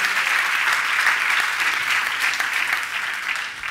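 Dense, steady applause from a large audience at a Teletón charity event, many hands clapping together in a continuous wash that holds loud throughout with no voices standing out.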